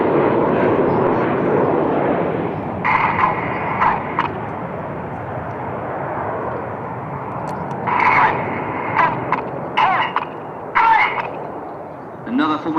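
A Red Arrows Hawk T Mark 2 jet trainer flying during a display: a loud, steady jet roar that swells and fades, with an announcer talking over it.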